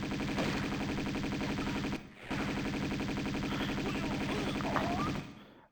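An enemy firing two revolvers in the video game Tomb Raider 2, set in an opera house, giving a fast, steady, loud stream of shots that breaks briefly near two seconds, then resumes and stops near the end.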